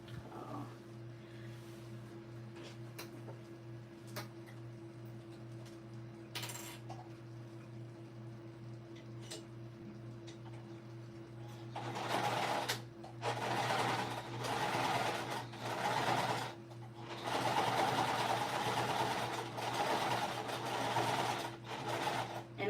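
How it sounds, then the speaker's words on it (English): A sewing machine stitches down the left and right sides of a slip pocket on an Addy shoulder bag, starting after a low steady hum with a few clicks, then running in loud bursts of stitching separated by brief pauses. "I'm just now stitching down on the left side and the right side"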